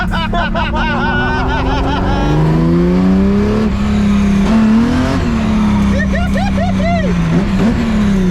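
A Datsun van from around 1983 fitted with a 2JZ-GE 3.2 stroker engine revs up and holds a loud, steady drone nearby, with voices talking over it.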